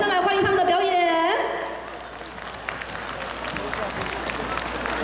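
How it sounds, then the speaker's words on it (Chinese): Audience applause at a Lantern Festival street parade outside Longyuan Temple swells into broad, steady crowd noise after an amplified voice speaks at the start. "我们用最热烈的掌声来欢迎他们的表演"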